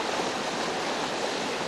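River white water rushes in a dense, steady hiss of churning current, close and continuous with no voices.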